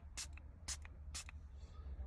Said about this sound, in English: Next, we're going to go ahead and spray the protector itself.